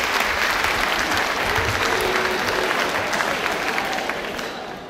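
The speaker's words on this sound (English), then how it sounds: "please give yourselves a round of applause" An audience at a school district's start-of-year convocation claps loudly in a dense, continuous burst that fades toward the end.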